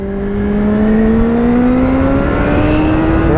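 Suzuki GSX-F 650 motorcycle accelerating hard to overtake an Audi TT, its engine note rising steadily and loud, close and continuous under wind rush.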